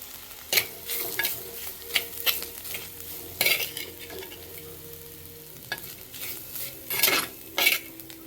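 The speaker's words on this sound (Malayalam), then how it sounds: "ഇതൊന്ന് നല്ല രീതിയിലൊന്ന് വഴണ്ടി വരണം" Fish curry ingredients sautéing in a pan with a steady sizzle, broken by repeated scraping clinks of a spoon stirring against the metal, some strokes louder and closer than others, with no talking.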